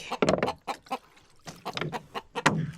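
Chickens cluck at a backyard poultry farm, a quick irregular run of short calls up close, some sharper and louder, with no voices over them.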